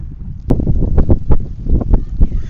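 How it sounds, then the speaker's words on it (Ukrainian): Cold wind buffets the microphone outdoors in low, rumbling gusts, with repeated sharp thumps and bursts throughout. "Бачите, вітер такий, мабуть, мене і погано чутно."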